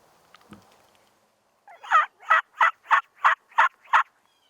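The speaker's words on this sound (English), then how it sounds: "I know there's for sure one big bird been gobbling and some more jakes." Seven loud, rapid gobbles from a wild turkey tom ring out in a quick rhythmic burst after a brief quiet stretch with faint rustling, during a turkey hunt in the southern United States.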